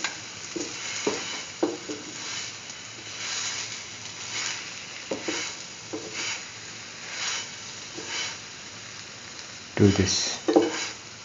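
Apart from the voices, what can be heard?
potato mustard chickpea flour sandwich frying in a pan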